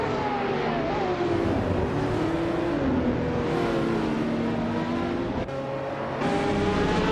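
Race cars in a racing video game battling closely for position, a steady loud engine drone with gliding pitch shifts as the cars accelerate and shift, one brief dip midway.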